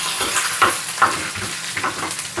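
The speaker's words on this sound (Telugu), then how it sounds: "ఇక్కడ పప్పులు మాడకూడదనమాట వీటిని దోరగా వేపుకోవాలి" Lentils, cashews and curry leaves fry in hot oil for lemon rice, giving a close, continuous sizzle broken by repeated bursts of a spoon stirring and scraping the pan.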